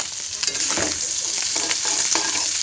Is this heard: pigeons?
no